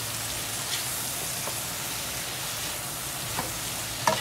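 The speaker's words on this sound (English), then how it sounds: "And in goes our lemon juice now," Vegetables sauté with garlic and butter as half a lemon's worth of juice goes into the pan, giving a steady, close frying sizzle with scattered pops and a sharper spatter near the end.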